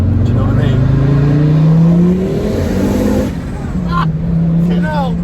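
A tuned Mk2 Ford Focus ST with a block mod, making about 480 brake horsepower, pulls hard, its engine note climbing steadily and loud from inside the cabin before easing and picking up again. Voices talk over it.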